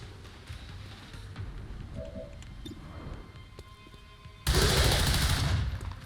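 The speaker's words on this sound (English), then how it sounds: "I'm gonna put a really inaccurate shot on him to proc his return fire" Gunfire in the XCOM 2 strategy game: a quiet stretch with faint clicks and tones, then a loud, sudden burst of shots that holds for about a second before tapering off.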